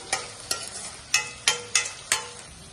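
Schezwan fried rice being stirred and tossed in a pan, with six sharp scraping strokes spaced about half a second apart over a faint background sizzle.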